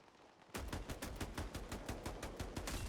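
Gunfire in the video game Highguard: after a quiet half second, a rapid, regular string of shots starts and keeps up evenly to the end, fairly faint overall with no voices.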